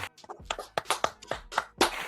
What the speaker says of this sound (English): let's give a round of applause for the birthday boy, Lip Dizzle.